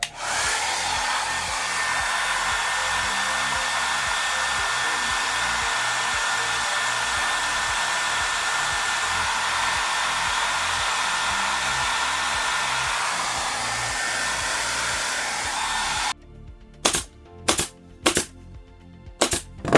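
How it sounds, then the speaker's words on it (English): A hair dryer blows steadily and loudly on vinyl for most of the clip, then cuts off, followed by several sharp clicks or knocks. "We could try our hair dryer to get those worked out now."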